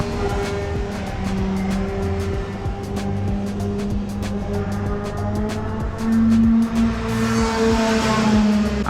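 Go-karts race around the Sepang International karting circuit, their engines whining and buzzing steadily as several pass in turn, with a louder, nearer kart toward the end.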